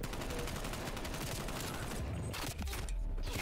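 Rapid automatic gunfire in a Call of Duty Cold War match, a dense, loud, continuous rattle of shots that fills the clip without pause.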